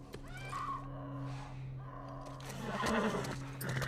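A horse whinnies in a rising, wavering call over a steady low hum, followed by louder rustling and movement, in the video game The Last of Us.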